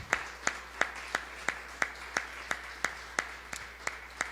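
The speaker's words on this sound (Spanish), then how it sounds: "Levantemos un fuerte aplauso a nuestro Dios." A church congregation claps in a slow, steady beat, about three claps every second, moderately close and fairly quiet over a low background hum.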